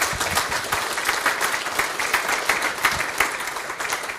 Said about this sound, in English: I would like to really ask an applause.